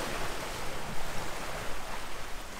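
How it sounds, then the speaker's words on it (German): Steady wash of small waves and water rushing along the edges of tidal races in the Strait of Gibraltar, heard from a sailboat, a constant broadband surf hiss with light wind, no voices. "Die hier kleinen Wellen kennzeichnen die Grenzen der Races."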